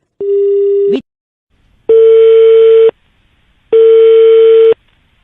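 Three steady electronic phone-disconnected tones, each lasting about a second with short silent gaps between them, loud and clear with no talking.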